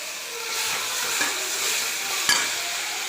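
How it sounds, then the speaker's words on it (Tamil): Onion and tomato with ginger and garlic sautéing in a pan for a carrot and beans kurma, giving a steady close sizzle and hiss with a few soft stirring scrapes and clicks. "இதில் ஒரே ஒரு பெரிய வெங்காயம், 2 தக்காளி இதை போட்டு வதக்கிக்கலாம்."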